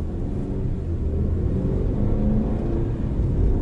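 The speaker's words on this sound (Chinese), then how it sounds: "六十八公里每小时麋鹿变线测试，准备开始 ESP 激活状态" A GAC Trumpchi GS3 Power accelerates toward a 68 km/h moose lane-change test on a test track with ESP active, its engine and road noise forming a steady, close rumble with no talking.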